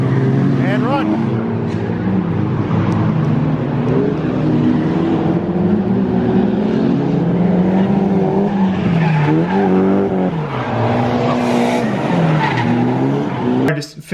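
Cars street drifting one after another on a mountain road, tires squealing in long wavering screeches over loud, continuous engine noise throughout.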